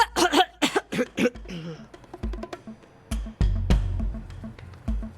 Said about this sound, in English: Why is she coughing?